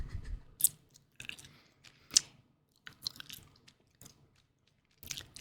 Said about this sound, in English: Black gum that literally turns into paste.